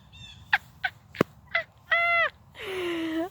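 A bird calls outdoors in a short series of sharp chirps and whistled notes, ending in a longer warbling call, fairly close and clear over a faint low background hum.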